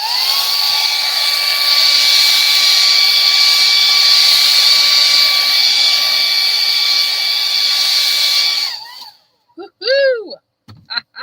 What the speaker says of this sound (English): let's see what our little blow dryer will do for us this time